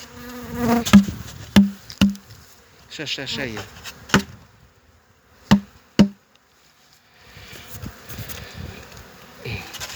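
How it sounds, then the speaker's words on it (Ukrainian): Honeybees in an opened hive at a winter apiary, with a steady low insect hum under several sharp knocks from handling the wooden hive, while people talk nearby. "Ой, там стільки мухи є"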